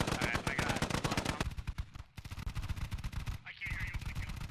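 Sustained machine gun fire in the military shooter game Squad, long rapid bursts of loud close gunfire broken by brief pauses, with fainter distant shots between bursts.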